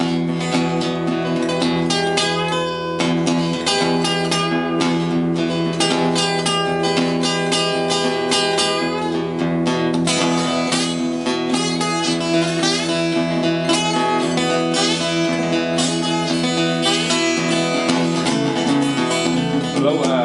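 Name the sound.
imitation of local freight train whistle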